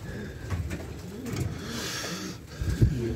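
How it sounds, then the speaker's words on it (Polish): Yearling pigeons cooing inside a breeder's loft, with soft overlapping coos and low throaty murmurs continuing throughout, a little louder toward the end. "To są roczne gołębie."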